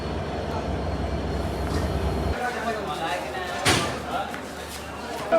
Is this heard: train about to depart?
yes